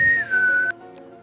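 A single clear whistled tone from an unskilled whistler attempting the X-Files theme slides down and holds briefly, then breaks off, followed by a faint short chirp.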